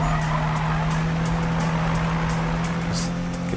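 Car drifting sideways in the racing game Need for Speed 2015, a steady engine drone with tyre skid noise, continuous and fairly loud.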